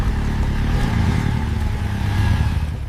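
A sports motorbike engine roars continuously, loud and close, with a dense, rumbling drone that holds steady throughout without any voices.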